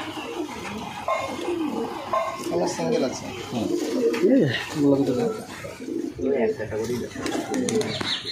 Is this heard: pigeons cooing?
yes